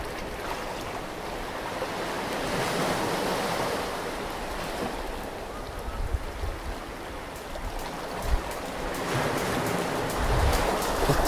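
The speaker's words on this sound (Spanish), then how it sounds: "las olas que hacen un sonido maravilloso" Waves wash and roll continuously, a loud rushing surge that swells and recedes, with no talking.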